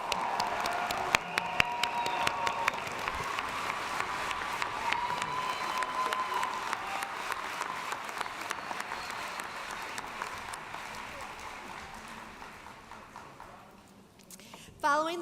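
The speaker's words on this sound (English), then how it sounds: "Let's give them a hand of applause." A large audience gives sustained applause at a university commencement ceremony in an indoor arena, with dense steady clapping that slowly fades, some cheering mixed in, and a brief burst of noise at the very end.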